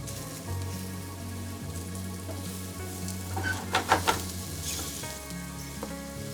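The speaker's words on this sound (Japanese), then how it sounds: "おやきの火加減調整は繊細に。 まずは軽く焼き目をつける。" Oyaki dumplings sizzle steadily as they brown in a pan, a close, continuous frying crackle with a few louder spatters and pops near the middle and no voices.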